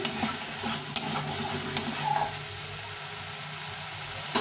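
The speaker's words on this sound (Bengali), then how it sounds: "এটাকে অনেকক্ষণ ধরে সুন্দর করে কষিয়ে নেব" A spice paste for egg curry is stirred and fried in a pan, with a steady sizzle broken by sharp scraping knocks of the spoon early on, then settling into a quieter simmering hiss.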